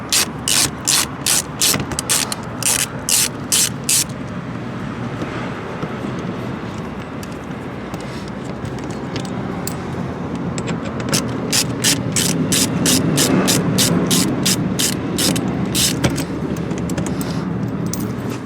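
Rapid ratchet clicking in bursts from a Torx 15 socket backing out 4.2 by 25 screws on a 2021-2024 Cadillac Escalade, with a steady mechanical hum between the bursts and a second longer run of clicks near the end.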